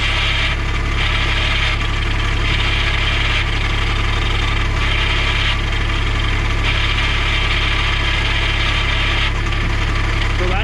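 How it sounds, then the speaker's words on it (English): A 2010 Cushman Truckster diesel with a dump body runs steadily with a deep, loud engine drone, and a rattling clutch noise sits on top in a repeating on-off pattern, close up, with no talking. "Noise is coming from the clutch, so not sure it needs a rear end"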